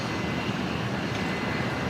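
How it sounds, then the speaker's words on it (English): A Jetstar jet takes off at Brisbane Airport, giving a continuous broad engine roar that holds steady and fairly loud throughout, with no talking. "we just had a Jetstar clear for takeoff."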